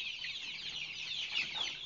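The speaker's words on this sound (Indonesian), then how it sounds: "Ayam kub satu bulan" One-month-old KUB chickens make a busy stream of high, overlapping peeps and chirps, fairly faint and steady, with no talking.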